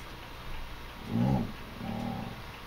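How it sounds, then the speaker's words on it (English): A dog gives two short, low growling whimpers close by in a quiet room, each lasting under half a second and separated by a brief pause. "That's a dog."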